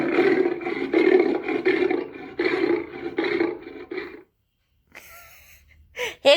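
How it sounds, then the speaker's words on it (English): A lion roar played from a Google Assistant smart speaker, a series of loud, rhythmic grunting roars repeated in quick pulses for about four seconds, followed by quieter sounds and brief noises at the end. "This is what lions sound like."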